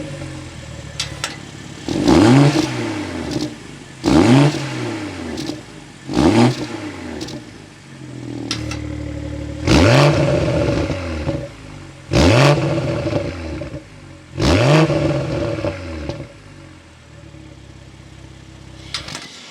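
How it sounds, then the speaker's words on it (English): A 2021 BMW X3 M40i engine fires up and its exhaust barks through a series of about six sharp, loud revs spaced a couple of seconds apart, each rising and falling back to a steady idle rumble. "start it up, and hear that exhaust note"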